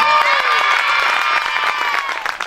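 An audience at a youth sports trophy event cheers and shouts loudly as children are welcomed, a dense continuous roar of voices with scattered claps, close and filling the space.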